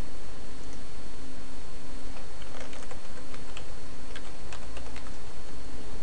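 A master password is typed on a computer keyboard in a quick run of soft, scattered key clicks over a steady background hum, with no voices.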